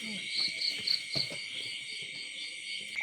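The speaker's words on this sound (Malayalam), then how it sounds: "ചീവീടുകളുടെ ശബ്ദം" Crickets chirp steadily at dusk, a continuous high trill layered with repeated brief pulses, moderately near, with a few faint low knocks underneath and no talking.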